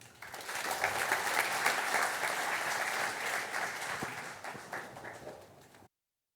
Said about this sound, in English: big applause for Dirk Vaessen.